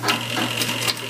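Sewing machine stitching down a two-finger Euro pleat in a curtain header, a steady close whirring run with no talk.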